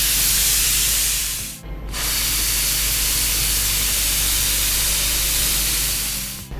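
A kitchen pressure cooker cooking pongal vents steam in a loud, close, continuous hiss, broken by one short pause before it resumes and fades at the end.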